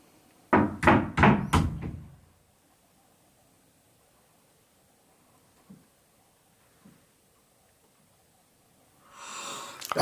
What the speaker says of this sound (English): I'm going to knock 3 times and we're going to see if they copy the noise.